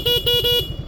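A stock Yamaha Fazzio scooter horn beeps in three quick, loud, evenly spaced toots over a steady idling engine rumble.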